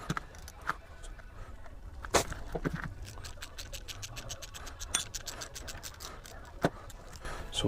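A ratcheting tool loosens the nut and bolt on a DR-Z400SM motorcycle's front brake lever pivot, giving quick repeated clicks and scraping metal close up, with a few sharper knocks.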